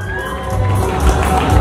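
Crowd at a norteña dance contest in Fort Worth cheering and whooping for a competing couple, a dense roar of shouts and calls that swells louder toward the end.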